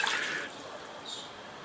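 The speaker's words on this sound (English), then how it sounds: "With some more water." Water poured into a pot of beef vindaloo with coconut milk, a brief splashing pour at the start that fades into a soft trickle, close and fairly quiet.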